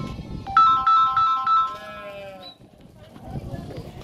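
Goats bleating in a sale pen of about 49 animals in Dois Riachos, Alagoas, Brazil; a loud wavering, tonal bleat rises over a murmur of voices and farm background noise.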